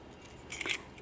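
Wire cutters snip through thin jewellery wire while forming a jump ring for wire-wrapped flower bouquet earrings, producing a single short, sharp metallic click up close.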